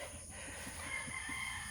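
Fighting roosters kept at a family home give faint, distant clucks in a loose series of short calls over a quiet, steady background hum.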